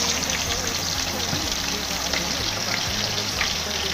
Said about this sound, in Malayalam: ചട്ടിയിൽ കോഴിനെ പൊരിക്കാൻ പോവുകയാണ്.